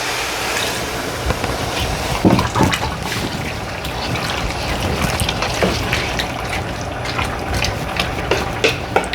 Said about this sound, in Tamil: இப்போ நாங்கள் வடித்து வச்ச தண்ணியையும் இதுக்கு போடுவோம்